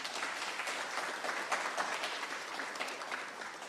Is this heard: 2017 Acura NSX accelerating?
no